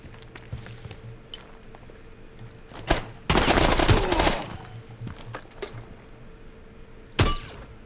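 Gunfire in the tactical shooter game Rainbow Six Siege: a dense burst of rapid shots lasting about a second, then a single sharp report near the end, over a low background hum with no talking.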